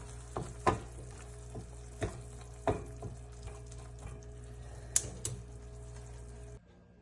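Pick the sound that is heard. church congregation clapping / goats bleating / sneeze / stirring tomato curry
stirring tomato curry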